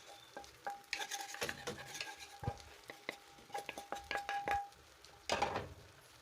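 Minced meat curry with grated carrot being stirred in a pot, a spoon scraping and knocking against the metal in quick irregular strokes over a soft sizzle, close and fairly clear with no talking.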